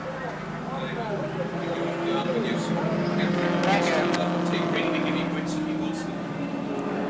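Group C touring cars from the 1984 ATCC round at Surfers Paradise International Raceway drone steadily along the main straight as a continuous engine roar, with a commentator talking over it throughout.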